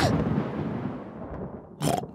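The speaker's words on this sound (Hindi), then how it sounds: "तूफान दूर जा रहा है।" Thunder from a storm passing away in a cartoon garden: a long low rumble fading over two seconds, then a short sharper crack near the end, fairly loud with no talk.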